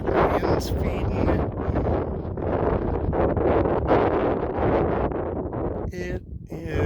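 Strong wind gusts roar and buffet the microphone beside a wildfire, loud and continuous, with someone talking over it.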